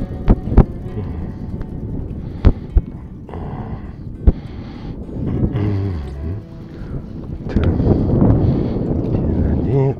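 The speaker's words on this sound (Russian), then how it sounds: "ветерок так постоянно дует" Wind blows steadily outdoors by the water on a fishing trip, a low rushing buffet across the whole stretch, with a few sharp clicks and knocks and a louder gusty surge near the end.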